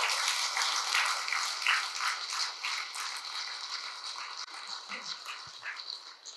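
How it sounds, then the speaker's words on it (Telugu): Audience clapping for Brahmarshi Patriji, a dense burst of applause from many hands that is loudest at first and gradually thins and fades toward the end. "బ్రహ్మర్షి పత్రిజీకి ఒకసారి గట్టి క్లాప్స్ కొడదాం."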